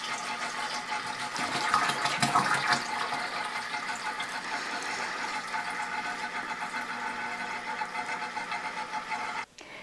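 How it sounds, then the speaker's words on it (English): Water pours steadily into a goldfish tank, a continuous rushing splash that stays fairly even throughout and cuts off abruptly near the end, with no talking. "And now we're going to add some water."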